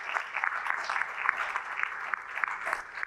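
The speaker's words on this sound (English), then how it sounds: "if I could have a round of applause for all of our earlier presenters" Applause from a conference audience honoring earlier presenters at an ocular surface disease session, a steady patter of many hands with sharp individual claps poking through, moderately loud and continuous.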